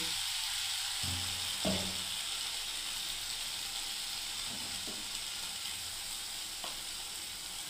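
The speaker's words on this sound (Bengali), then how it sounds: "দেখুন এবার আমি পটলগুলোকে ছেড়ে দিচ্ছি বন্ধুরা এর মধ্যে।" Pointed gourd pieces drop into a spicy paste frying in a pan, giving a steady broadband sizzle with a few soft clatters and scrapes, at moderate volume throughout with no talking.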